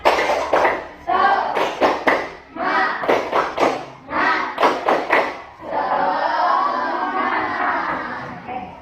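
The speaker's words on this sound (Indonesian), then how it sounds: "tepuk ganda, tunggal, tunggal, tunggal, ganda, tepuk semangat" A sixth-grade class claps in a rhythmic pattern of single and double claps, sharp grouped bursts separated by short pauses, ending in a longer run of fast clapping with children's voices.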